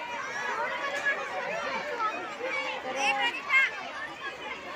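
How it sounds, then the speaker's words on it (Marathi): A crowd gathers outside a school after exams let out, with a dense babble of many voices chattering at moderate distance and a few louder voices rising now and then. "बघू शकता बाहेर किती गर्दी झाली आहे"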